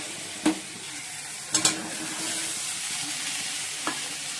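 Okra and potatoes frying in a pan for a curry, a steady soft sizzle broken by a few sharp scraping clatters of a spoon stirring, close up with no talk.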